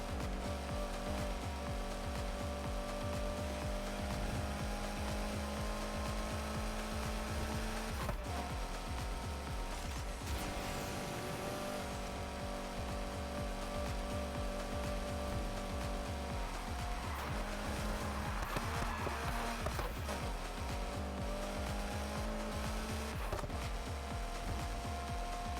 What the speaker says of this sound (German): Ich liebe irgendwie den Sound vom Wankelmotor.